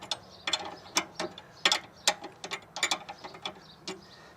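A ratchet wrench tightens a stiff new locking nut on a car's sway bar link. A quick run of sharp, close clicks comes in uneven bursts, loud and clear with no talking.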